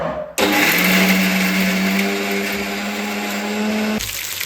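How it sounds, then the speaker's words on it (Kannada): A mixer grinder grinds a large onion, starting abruptly with a loud, steady motor whine that holds for several seconds, then cuts off sharply. "ಇಲ್ಲಿ ನಾನು ದೊಡ್ಡ ಈರುಳ್ಳಿ ತೊಗೊಂಡಿದ್ದೀನಿ. ಇದನ್ನು ನೀಟಾಗಿ ರುಬ್ಬಬೇಕು."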